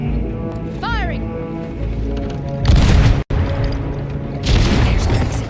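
Ship cannons booming in the pirate video game Sea of Thieves: heavy blasts roll in, pause briefly and hit again, loud and full over a constant background of ocean and game noise.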